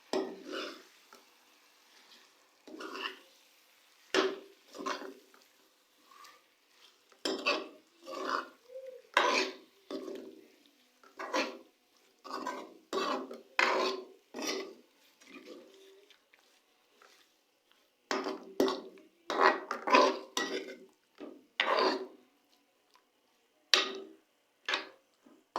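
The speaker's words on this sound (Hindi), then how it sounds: "मछली डालने के बाद अब हम इसे मसाले में मिक्स करेंगे।" Fish pieces being mixed into masala in a pan for a Lahori fish fry, a slow irregular series of sharp spoon taps and scrapes against the pan, close and isolated against near silence.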